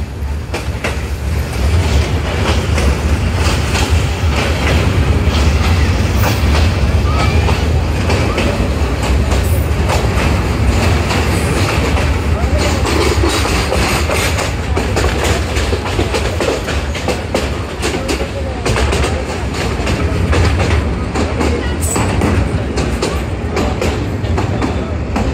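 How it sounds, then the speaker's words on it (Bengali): The Egarosindur Provati Express, bound for Kishoreganj, rolls from a loop line onto the main line, its steady clickety-clack and rumbling wagons loud and continuous throughout, with faint wheel squeal at times. "আমাদের ট্রেনটি এখন লুপ লাইন থেকে মেন লাইনে প্রবেশ করছে।"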